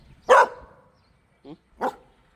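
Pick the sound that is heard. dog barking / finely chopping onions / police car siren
dog barking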